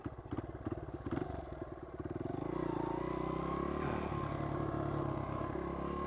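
A Honda XR100 dirt bike engine idles roughly and sputters on a woodland trail, a steady close running note with uneven, stumbling pulses, alone with no talk.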